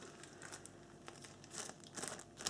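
A plastic bag holding clear wood-pulp sample labels crinkles and crackles continuously up close, with sharper crisp bursts as it is handled.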